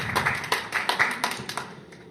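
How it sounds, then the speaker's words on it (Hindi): Audience applause at an award ceremony for a children's literature honour: a brief burst of clapping from a small gathering, several uneven claps that fade out within about two seconds. "आपके सम्मान में जोरदार ताली।"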